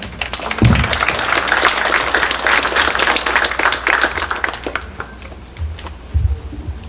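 Strong applause from a seated audience at an evening talk welcoming a speaker, a dense sustained clapping that fills the room, then thins out and fades to a few scattered claps near the end.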